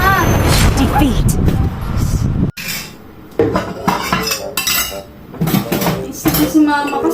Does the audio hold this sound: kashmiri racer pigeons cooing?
no